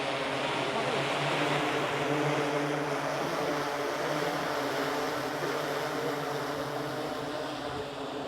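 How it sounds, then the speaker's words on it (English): A delivery drone arrives with a steady, dense droning buzz and whirring, loud and constant throughout with no pauses, heard in a city setting. "our drone delivery is about to arrive. You can just hear the buzzing."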